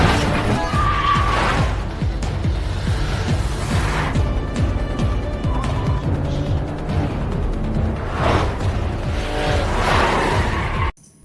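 A car crash in a Korean gangster film scene, with several loud broadband smashes and impacts spread over a continuous roar of engines and action effects, ending abruptly.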